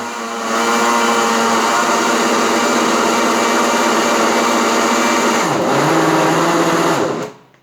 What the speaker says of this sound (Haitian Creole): Bien blender pour avoir une belle crème.